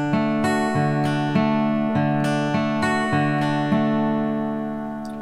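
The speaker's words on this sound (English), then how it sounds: "when I play pattern 5, I don't play that very last note and it sounds like this." Close, clear fingerstyle guitar repeats a broken-chord picking pattern with the final eighth note of each bar left out, giving a short pause before each new bass note; no voices, and the last chord fades.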